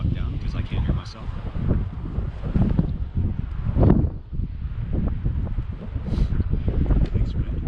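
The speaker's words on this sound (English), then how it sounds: "I'll wait till the wind calms the fuck down because I can't hear myself." Strong gusting wind on a hilltop buffets the microphone in a steady, loud low rumble that swells and dips throughout.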